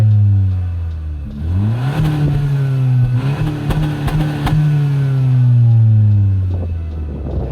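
Honda Civic 1.5 VTEC turbo, 182 horsepower, with a steady, moderately loud engine and exhaust drone that climbs and falls in pitch through gear changes and revs, heard close and alone.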